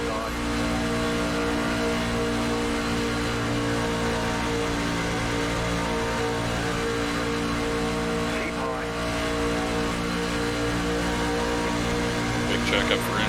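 A loud NASCAR race car engine in the iRacing video game at Daytona drones and whines continuously, with layered engine tones and a slight surge near the end.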